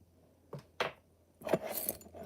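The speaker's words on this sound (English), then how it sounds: "Oops, I spilt my beads." Small beads spill and scatter onto a surface in a few quick, bright rattling bursts, close and fairly quiet, with the last burst the longest.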